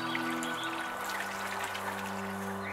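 Water pours steadily into a garden pond being topped up, a continuous close splashing trickle with a faint hum beneath it.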